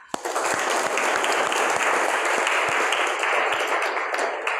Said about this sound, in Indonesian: Ibu rekan kita aplaus untuk kita semua